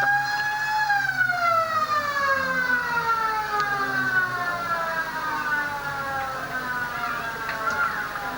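A long, loud football match quarter-time siren at Hands Memorial Oval holds a steady tone and then slowly falls in pitch, sounding continuously for about eight seconds over a murmur of crowd noise at a 1998 grand final.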